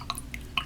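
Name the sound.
paintbrush dunked into water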